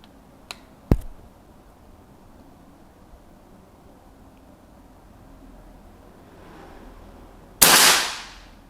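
A lone air rifle shot cracks loudly near the end, preceded by a couple of soft clicks and a quiet pause, as the scoped rifle is fired at a target during sighting in.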